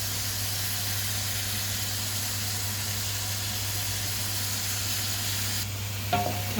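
Alexandrian-style liver sizzles steadily in a pan under a constant low hum, then a brief clatter of metal utensil on the pan near the end as the pieces are flipped.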